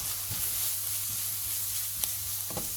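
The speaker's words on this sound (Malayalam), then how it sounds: "ഇനി നമുക്ക് നന്നായിട്ടൊന്ന് ഇളക്കി കൊടുക്കാം." Spice mixture of chilli powder and coriander powder being stirred in a frying pan while preparing chicken snacks, giving a steady close sizzle with a few soft scrapes of the spoon; no talking.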